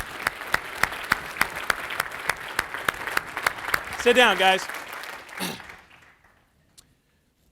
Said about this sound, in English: So give yourself a standing applause